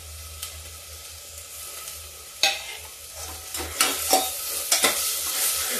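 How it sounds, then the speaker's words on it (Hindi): Onions fry with masala in a pan, a low sizzle broken by several sharp scraping bursts of stirring that grow busier toward the end, close and fairly loud. "इसी मसाला के साथ ही प्याज भून जाएगा"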